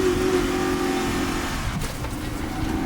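Old pickup truck with a bad transmission driving and revving, a steady loud engine drone with a strained low hum that dips briefly midway, heard close from inside the cab.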